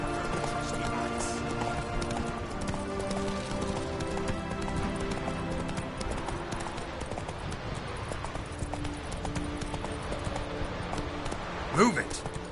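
Roach, a horse in The Witcher III, gallops with a steady rhythmic clip-clop of hooves under continuous game ambience and background voices, ending in a brief neigh near the end.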